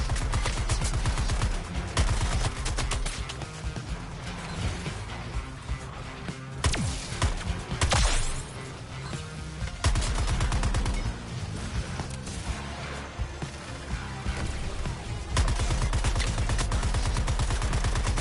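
Sustained gunfire in the video game Suicide Squad: Kill the Justice League, dense automatic bursts and rapid shots stacked over a loud, busy game soundtrack for the whole stretch, with brief lulls between volleys.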